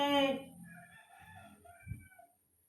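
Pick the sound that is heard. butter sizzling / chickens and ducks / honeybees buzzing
chickens and ducks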